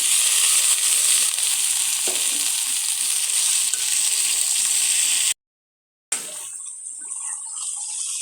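Potatoes and beans fry in a spice paste of chilli powder, turmeric and salt, a loud steady sizzling hiss close by with light stirring, cut off briefly and then resuming more quietly.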